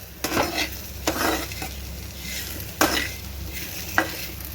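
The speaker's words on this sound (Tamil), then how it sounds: "இது அப்படியே நல்லா வந்து வறுத்து எடுத்துக்கலாம்." Thuthuvalai greens roasting with tamarind in a pan, a soft continuous sizzle broken by a few scraping stirs of a utensil against the pan.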